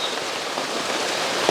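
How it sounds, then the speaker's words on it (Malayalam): Heavy monsoon rain pours down steadily nearby, a dense close hiss of drops striking surfaces with no voices. "മഴ പെയ്തുകൊണ്ടേ ഇരിക്കുക"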